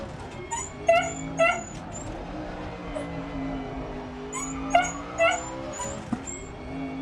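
Muffin the dog whimpers and yips in short high-pitched bursts, several close whines in clusters over a steady low background hum, with quiet stretches between the outbursts.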